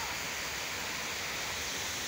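Steady, even hiss of fountain water flowing in Parliament Square in Baku, Azerbaijan, a faint continuous wash with no pauses or voices.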